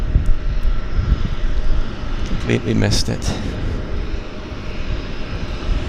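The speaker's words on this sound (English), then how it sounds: "this airplane is going to go to the other, way down to the east end of the river" A fixed-wing airplane drones steadily over Vancouver harbour with a continuous engine roar throughout, while someone speaks briefly over it.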